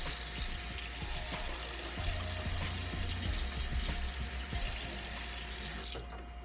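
Tap water runs steadily into a sink while a makeup brush is rinsed under the stream, a constant close splashing hiss with small clunks and shifts, then it tapers off at the very end.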